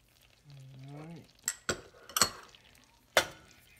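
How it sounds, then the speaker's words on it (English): Brown and white sugar being stirred together in a bowl for a peach cobbler cheesecake, giving a few sharp scrapes and clinks of a utensil against the bowl, close by, with brief voiced sounds at the start. "Stir that up in there."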